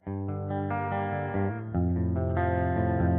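Electric guitar processed with reverb, chorus and equalizer, sustained chords changing midway with a shimmering, wavering tone, moderately loud with no voices.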